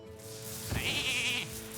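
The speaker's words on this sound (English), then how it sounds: "Oh, we have sheep as well." Sheep bleat in the Hearthstone card game, one wavering, drawn-out bleat over a steady layer of game music and effects.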